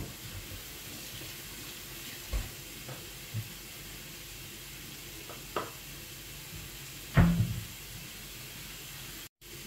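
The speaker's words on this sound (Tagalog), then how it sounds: "Hihintay tayo na ma-brown yung meat." Pork pieces browning in a pan with seasoning cubes, a quiet continuous sizzle with a few sharp clatters from stirring, the loudest near the end.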